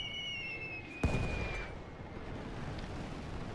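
Artillery fire in The Great War game lands as a single sharp boom, followed by a rolling, rumbling tail over a steady background of battle noise, with a thin whistling tone fading out just before and after the blast.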